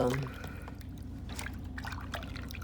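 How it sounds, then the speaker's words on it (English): Running water over hands and nails being washed at a sink after nail polish removal, a steady soft trickle and splashing, with someone talking over it. "here I'm washing my nails well after I've all removed my nail polish"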